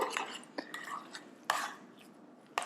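Garlic mashed potatoes being stirred with melted butter: soft, close scraping and squelching strokes in an uneven rhythm, punctuated by a few brief clinks of a utensil against the bowl.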